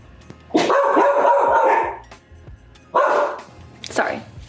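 Dogs bark indoors in loud, close bursts: a sustained volley of barking, a pause, then two shorter outbursts, with some household knocks in between.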